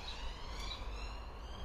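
A police car or ambulance siren wails faintly in the distance, its steady rising and falling tone drifting past over a constant low background rumble.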